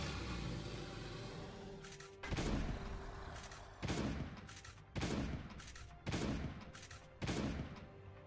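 Repeated gunshots in the mobile survival game Last Day on Earth: Survival, about five heavy booming shots spaced roughly a second apart over a steady background rumble, loud and close with no talking.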